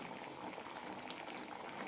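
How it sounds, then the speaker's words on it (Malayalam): Egg kurma curry at a full boil, dense continuous bubbling close by, loud and even throughout. "നന്നായി തിളച്ചിട്ടുണ്ട്."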